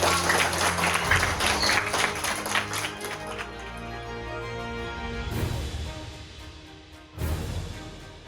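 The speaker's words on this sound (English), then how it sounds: "Let's give everyone a round of applause." A crowd at an education conference applauds with steady clapping that gradually thins, followed by a couple of brief bursts of sound near the end.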